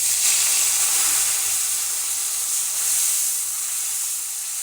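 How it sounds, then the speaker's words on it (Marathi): Milk hitting leftover hot ghee in a pan after frying raisins for shira, giving a loud, steady hiss and sizzle that holds evenly and fades slightly toward the end. "तर आपण आता उरलेल्या तुपामध्ये दूध टाकून घेऊया।"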